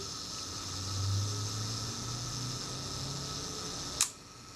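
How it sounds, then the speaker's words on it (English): A faint mechanical whir of a vintage Retina camera's self timer runs steadily, then a single sharp shutter click snaps at the end, close and distinct. "So let's test our self timer."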